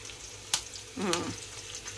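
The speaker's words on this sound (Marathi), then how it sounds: "फोडणी टाकायला हा कसा तडतडते आवाज येते तुम्हाला" Curry leaves for a tempering crackling in hot oil, a faint sizzle broken by a sharp pop and a short burst of spattering, brief and close by, with no voices.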